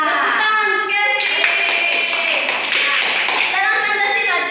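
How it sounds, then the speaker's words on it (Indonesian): Primary-school children in a civics class clap for a classmate, a loud, dense round of quick hand claps that bursts in after a teacher's voice and fades as talking resumes. "Tepuk tangan untuk Evi."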